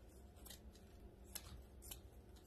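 Scissors snip through burlap ribbon during a Christmas craft project, a few quick crisp cuts close to the mic against a quiet room.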